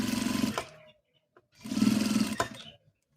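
A sewing machine stitches fabric for a triceratops mane in two short bursts of steady mechanical whirring, each ending abruptly, with a soft click between them, close and moderately quiet.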